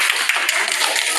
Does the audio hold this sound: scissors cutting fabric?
no